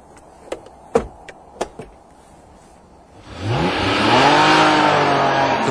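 A few sharp knocks sound first, then a Honda NSX engine on a racetrack surges in, revving loudly and climbing steadily in pitch as it accelerates through the VTEC variable timing range.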